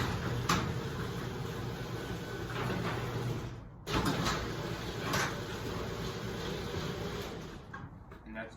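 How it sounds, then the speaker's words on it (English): A garage door opener drives the door during a downforce safety-reversal test, giving a steady mechanical rumble and rattle with a brief stop and restart partway through, close and moderately loud. "And now let's test the garage door downforce."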